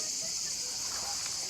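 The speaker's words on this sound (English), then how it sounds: "Lots of cicadas." Cicadas on a steep, overgrown hillside give off a steady, high-pitched shrilling drone that holds evenly throughout, fairly close and continuous with no breaks.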